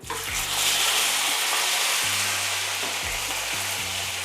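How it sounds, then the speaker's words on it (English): Jalapeno chicken pieces frying in hot grease, a steady loud hiss and crackle of oil close up with faint clunks from the pot, and no voices. "we're gonna drop those chicken pieces back in this grease"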